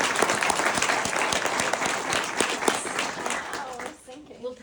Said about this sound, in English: please give these two a huge round of applause